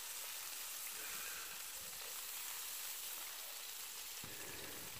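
Chops seasoned with a small pinch of salt fry in a pan, giving a faint, steady sizzle that continues unbroken and alone, with no talking.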